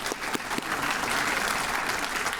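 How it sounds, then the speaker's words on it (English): An audience at an awards ceremony, the 2022 Sunrise Pinnacle Awards, bursts into applause: brisk, dense clapping from a crowd with a few sharper individual claps standing out, sustained throughout. "So if you clap for them, because they are awesome."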